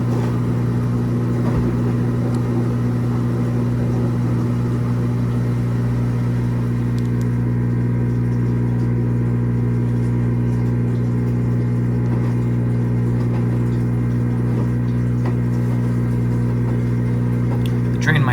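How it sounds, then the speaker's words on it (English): Kenmore Elite HE4t washing machine draining and moving into an intermediate spin on an Express Wash cycle, giving a steady, loud low hum with a constant motor tone that runs without a break, with no talk. "Going into a drain and probably another intermediate spin."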